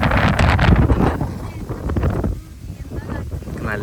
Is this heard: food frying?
no